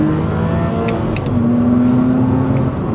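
A BMW Z4 Coupe engine with a naturally aspirated six-cylinder hums loudly and steadily, its pitch rising as it revs and accelerates, with faint background noises.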